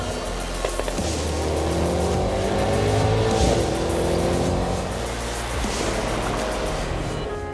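A Mercedes-AMG GT 63S four-door coupe with a bi-turbo V8 launching hard, engine roaring loud and continuous with tire squeal and rushing noise throughout, no voices.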